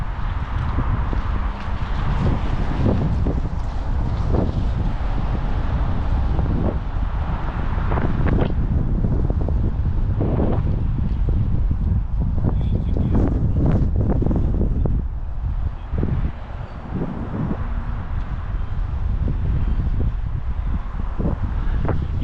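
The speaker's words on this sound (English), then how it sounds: "The wind blows from the north, maybe northeast, at least in the open space." Strong wind buffets the microphone on an outdoor trail heading north toward Lynn, a loud continuous rumbling roar with gusty surges throughout and no talking.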